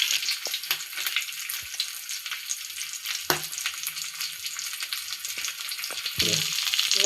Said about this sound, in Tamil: நல்லா ஃப்ரை ஆகிடுச்சு.